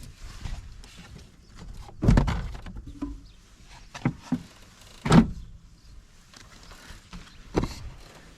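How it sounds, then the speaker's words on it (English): Hooks on the air filter box of a 2018 Toyota Tundra being unclipped by hand, a few sharp plastic clicks and thunks spaced out over a quiet engine-bay background, no speech. "You have a Tundra, just unclip these hooks."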